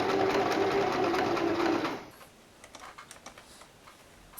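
A sewing machine stitches slightly thick fabric for a face mask in a loud, fast burst for about two seconds, then stops, leaving faint ticking clicks and handling sounds.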